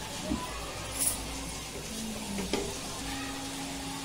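Mawa and sugar cooking in a pan for mawa peda give a faint, low sizzle with a few light clinks of a spoon; no voices.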